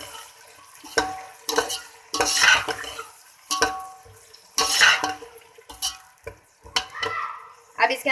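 Shelled peas frying with onions in a pot for matar aloo pulao, stirred in repeated bursts: scraping spoon strokes over a sizzling base, with short pauses between strokes and no voices.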